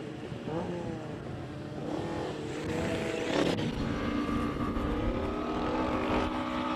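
A classic race car launches off the line at a Cape Town speed event, its engine revving and climbing in pitch with a couple of gear changes, heard from some distance.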